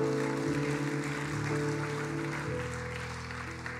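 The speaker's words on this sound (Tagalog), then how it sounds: "Pwede ho ba nating bigay sa Lord yung pinaka-the best na palakpak?" A church congregation applauding during a sermon: a steady, dense wash of clapping from many people in a hall, moderately loud and sustained for a few seconds, with a sharp knock at the very end.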